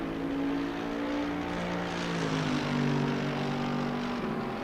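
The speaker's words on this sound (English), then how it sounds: "can hear the Porsche coming down the hill" A Porsche race car in Assetto Corsa Competizione comes down the hill at a German Series race round, its engine droning steadily with a shifting pitch, loud and continuous with no voices.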